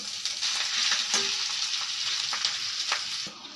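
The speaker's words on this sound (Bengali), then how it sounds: "দেখো 5 ফোড়ন আর তেজপাতা ফোড়নে দিলাম, আদা বাটা" Panch phoron, bay leaf and ginger paste tempering in hot oil for shukto, a loud, bright, continuous sizzle broken by occasional sharp spatters and spoon scrapes.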